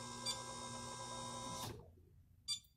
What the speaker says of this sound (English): This motor is running.